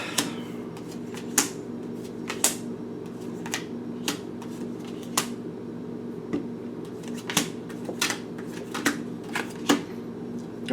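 A deck of tarot cards is shuffled by hand, giving soft, close papery riffles and scattered sharp card taps at irregular intervals over a low steady room hum.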